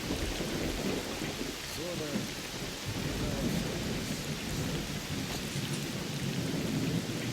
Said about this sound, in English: It's like raining so hard.